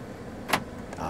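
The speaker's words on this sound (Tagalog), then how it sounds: "Tapos lock mo yung pintuan." A manual car's door lock engages with one sharp, brief click inside a quiet cabin, over a low steady background hum.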